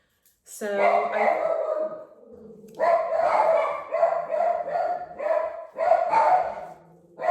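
Several loud, harmonic barks from a dog in a home kitchen, coming in bursts with short pauses between them and mixed with voices; a person speaks over and around the barking.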